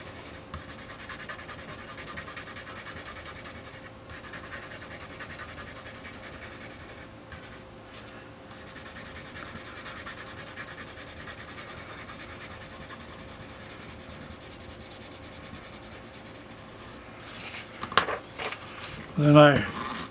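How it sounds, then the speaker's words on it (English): A steady, soft scratchy rasp of graphite rubbed across the back of a paper drawing continues near and alone for most of the span, before a few louder bumps and shuffles near the end. "I'll just rub the graphite"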